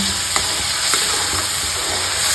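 Boiled vegetables frying in pav bhaji gravy, a loud continuous sizzle with light scraping stirs at a few points throughout, no voices.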